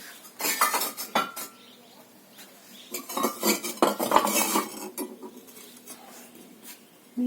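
Bisque-fired ceramic pieces clink and knock against each other as they are lifted out of a very small pottery kiln, in irregular bursts of close, clattering ceramic contact with short pauses between them.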